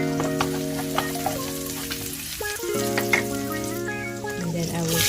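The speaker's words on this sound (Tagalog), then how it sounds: "I will put my garlic on the pan. With oil, of course. Make it a little bit brown." Garlic frying in oil in a pan keeps up a steady, close sizzle through the whole stretch, with harmonic tones from something else running underneath and a brief disturbance midway.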